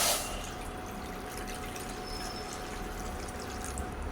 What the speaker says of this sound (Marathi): कढईमध्ये आता पाणी घालून घेऊया